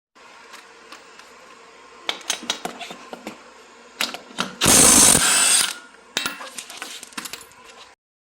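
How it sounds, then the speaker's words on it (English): Cordless 12 volt half-inch drive impact wrench, a DeWalt DCF 901, spinning a wheel off a commercial mower: a loud sustained burst of hammering rattle about a second long, framed by scattered clicks and knocks of handling. "going to pull it off real quick with my 12 volt half-inch drive impact DCF 901"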